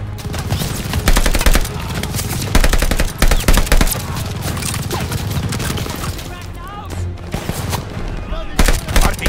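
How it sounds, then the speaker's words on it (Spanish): Automatic machine gun fire from a Call of Duty Vanguard battle, loud rapid bursts with heavy booms across the whole stretch, mixed with shouted voices and battlefield noise. "¡Pegan más ametralladoras!"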